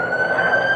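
A steady, high wailing siren tone holds briefly with a dense noisy rumble beneath it.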